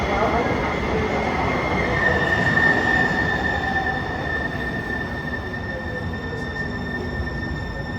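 A light rail train pulls into a station in Seattle, a steady loud rumble of wheels on track with a long, high-pitched squeal of braking wheels running throughout, no voices.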